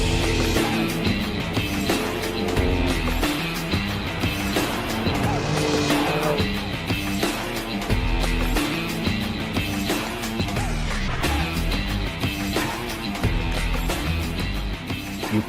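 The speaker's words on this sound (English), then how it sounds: "you can slide the truck, you can get some wheel spin" An offroad truck in Baja mode is driven hard on dirt, sliding with wheel spin. A loud, continuous engine roar runs throughout, with tire squeal and skidding mixed in.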